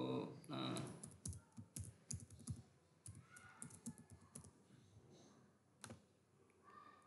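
A password is typed on a computer keyboard in an irregular run of close, crisp key clicks, with faint breathy sounds in places.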